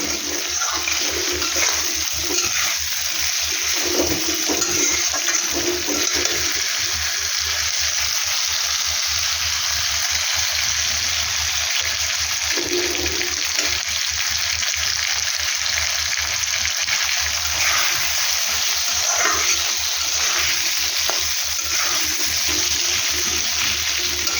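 A peas and potato curry with tomatoes sizzles steadily in a pan while being stirred, a continuous frying hiss broken by soft scraping strokes, with no talking.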